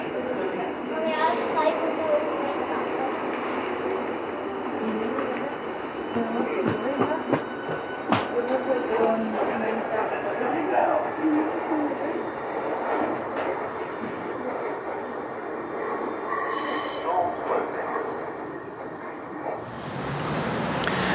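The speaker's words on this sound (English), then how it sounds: "At the moment on platform 2 we have a Class 395 Javelin on its way to Ramsgate." A Class 395 Javelin electric train, bound for Ramsgate, stands at platform 2 of Rochester station on the Chatham Main Line. A continuous broadband rumble and hum fills the station, with sharp clanks and a bright burst near the end.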